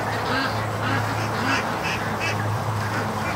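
A small group of ducks with a goose by a lake quack in repeated, rhythmic bursts over a constant low background hum, moderately close and fairly loud.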